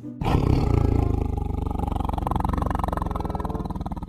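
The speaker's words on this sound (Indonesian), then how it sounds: "Wow, ada harimau." A tiger toy lets out a loud, sustained recorded roar with a rumbling, pulsing texture that carries on for several seconds without talk.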